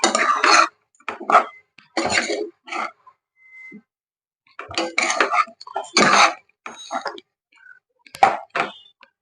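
Egg fried rice stirred and mixed in a pan, heard as intermittent clanking and scraping of a utensil against metal in separate bursts with quiet gaps between.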